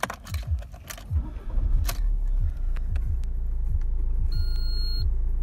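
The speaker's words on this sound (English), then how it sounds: "I'm just going to turn the car on" A 2016 Fiat Tipo 1.6 MultiJetII diesel starting up, with a short burst of cranking settling into a steady low idle hum, followed by a few faint electronic chimes from the dashboard.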